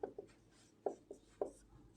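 Marker or chalk strokes on a board during a physics lesson on circuit laws make several short, faint scratching taps in an irregular rhythm, close and quiet, with no talking.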